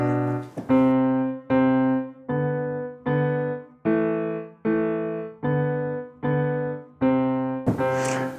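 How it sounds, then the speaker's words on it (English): Piano double-note finger exercise played without pedal, a contrary-motion pattern of ten evenly spaced paired notes struck one after another in a slow, steady rhythm, clear and close with no voice. "playing double notes on the piano can get tricky"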